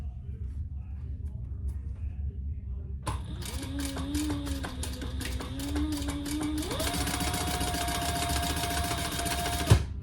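After a few quiet seconds a sewing machine starts chain stitching a sling bag, running in a fast continuous whir with changing speed and a rising pitch before it stops abruptly with a click.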